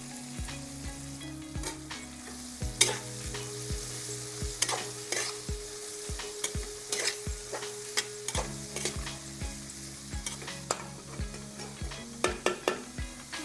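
Thinly sliced onions and green chillies fry with salt in a pan. A constant sizzle runs under frequent sharp clinks and scrapes of a spoon stirring against the metal, with no voices.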